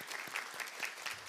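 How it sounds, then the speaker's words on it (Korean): Congregation at an end-of-semester university mass claps for the president and professors, a short burst of close, rhythmic hand claps with distinct individual slaps. "우리 박수 한번 쳐드립시다"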